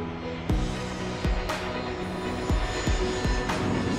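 An airplane drones at steady volume, with a few sharp knocks or clicks recurring every second or so over it.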